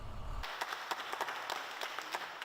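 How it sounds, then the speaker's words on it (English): A small crowd in Detroit claps steadily, a scattered ripple of applause at moderate distance after a brief low rumble. "A round of applause for Pastor Ovella Davis."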